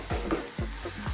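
Onions fry in oil for Arabic mujaddara, sizzling steadily while a utensil scrapes and stirs through them in a few quick strokes, close up.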